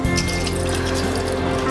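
Water mixed with flour is poured into a simmering beef gravy, a steady close trickle and bubbling over a continuous kitchen hum.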